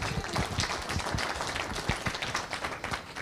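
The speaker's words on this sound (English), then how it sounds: "Let's give him a warm round of applause." Applause fills a Rotary club meeting room, with many hands clapping in a dense, steady patter from the gathered audience.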